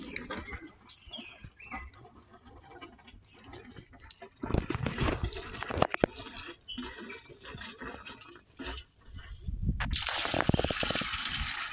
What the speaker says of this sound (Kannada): ನಾನು ನೀರು ಹಾಕ್ತೇನೆ ನೋಡಿ ಆಗ ನಿಮಗೆ ಗೊತ್ತಾಗ್ತದೆ